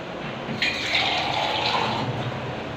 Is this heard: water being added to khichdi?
yes